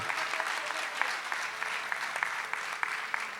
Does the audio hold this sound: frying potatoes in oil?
no